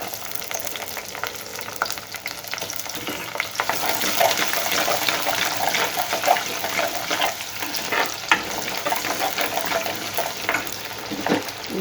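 Big onions frying in a pan for a gongura and ridge gourd dal tempering, a steady sizzle with faint stirring scrapes running throughout at moderate volume, no voices.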